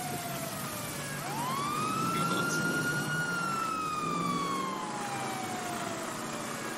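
A wailing emergency siren rises and falls in a long sweeping tone, loud and continuous over background traffic noise.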